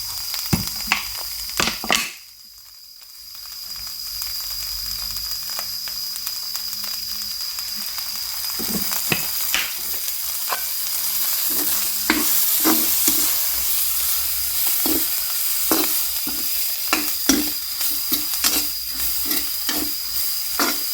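Oil heats in a pan for a home-cooked egg curry, a faint steady hiss after a brief quiet gap, then irregular sharp crackles and pops that grow busier as the frying picks up, close to the microphone.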